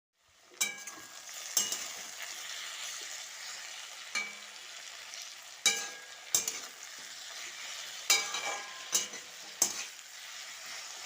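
Vegetables stir-fried in a pan with salt, turmeric, sugar and a panch phoron tempering: a steady sizzle broken by repeated scraping, clattering strokes of the spatula at irregular intervals.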